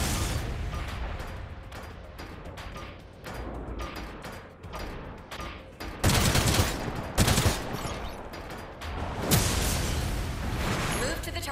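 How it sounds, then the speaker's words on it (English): Grenade blasts in the mech shooter Gundam Evolution, several loud broadband booms landing among continuous rapid gunfire and mechanical battle noise. "Use your grenade to attack the moving target"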